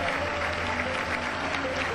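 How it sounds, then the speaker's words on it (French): Congregation clapping hands in praise at a bilingual church service, a steady continuous wash of applause with a faint tonal hum underneath and no clear talk. "Give the Lord a hand clap."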